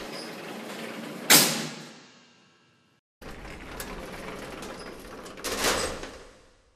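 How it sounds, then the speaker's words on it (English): Manual door of an old lift in a building slammed open and shut, two loud metallic clatters with rattling tails, the first sharp and ringing out, the second after a pause, close and alone. "created by opening and closing the manual door of the old lift within the Newton building"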